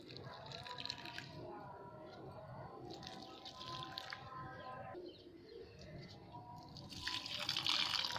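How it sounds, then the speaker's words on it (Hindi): Water is poured onto potted plants on a rooftop, a faint splashing and dripping. Pigeons coo nearby and a few other birds call over it. "ये देखिए दोस्तों, पेड़ में पानी डाल देते हैं।"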